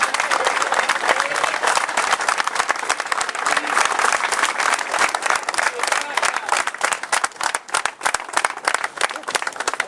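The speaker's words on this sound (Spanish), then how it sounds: "así que vamos a darle un fuerte aplauso" A community gathering audience breaks into loud, dense applause with sharp individual claps standing out, holding strong for about ten seconds while scattered voices call out underneath.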